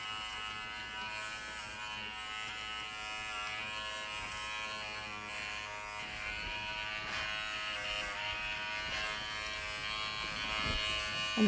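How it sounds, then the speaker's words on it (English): A Wahl Figura lithium ion clipper hums steadily at close range while grooming a standard poodle, its buzzing motor tone continuous with slight shifts as it moves through the coat. "this clipper, if I want to come around and do her tail set"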